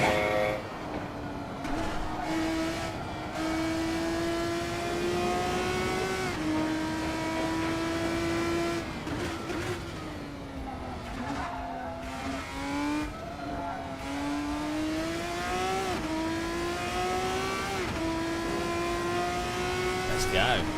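Alfa Romeo racing a lap at Mallory Park in Assetto Corsa, a steady simulated engine drone rising and falling with gear changes and throttle, continuous and prominent throughout.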